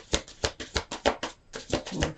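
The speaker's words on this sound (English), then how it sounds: "One more shuffle here." Tarot cards are shuffled by hand in quick, rhythmic riffling bursts, about a dozen crisp flutters close up with short gaps between them.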